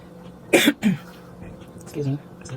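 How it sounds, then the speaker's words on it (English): Two harsh coughs close to the microphone, followed by a short murmur of a voice in a quiet room. "Excuse me, sorry, I have cough."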